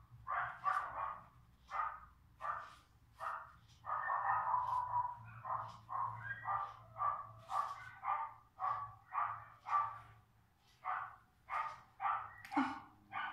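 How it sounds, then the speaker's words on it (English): Dogs bark at someone at a gate, a long run of sharp, evenly spaced barks repeating every half second or so, moderately distant over a low background hum, with a brief whine near the end. "Somebody at the gate again and the dogs are barking crazy."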